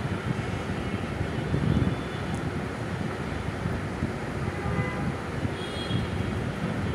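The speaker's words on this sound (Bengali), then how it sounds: "তেলটা যখন গরম হয়ে যাবে তখন আমি পটেটো স্টিকগুলো এক এক করে ছেড়ে দিব।" Potato sticks frying in hot oil, with a steady, dense sizzle and bubbling that continues evenly throughout and no talking.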